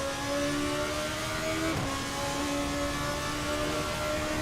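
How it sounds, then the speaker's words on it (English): Racing car's V8 engine in a sim racing game, an onboard view at Mugello, howling steadily and loudly at high revs throughout, with a brief dip in pitch mid-clip as if shifting or lifting, no talk over it. "We might just stay quiet for a while here just to hear the V8 in song."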